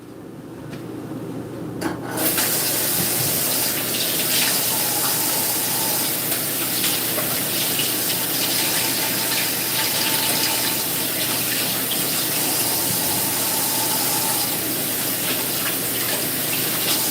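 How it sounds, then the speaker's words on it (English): Tap water runs steadily for about fifteen seconds while hands are washed under it, close and fairly loud, with a faint rubbing texture in the flow and no talk. "I'm gonna wash my hands."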